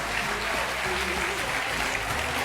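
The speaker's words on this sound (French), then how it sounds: "on peut l'applaudir fort, Céline" Studio audience of a French TV game show applauds a contestant, a dense, even clapping that stays loud and steady for a couple of seconds.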